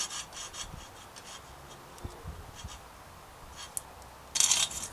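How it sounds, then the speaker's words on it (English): A fixed-gear bicycle chain being twisted in a chain tool to loosen a stiff link, with faint, close scratchy rubbing and small metallic clicks, ending in a brief sharper rasp. "by putting the chain in the other slot in my tool, I can give the chain a little twist and loosen up that link"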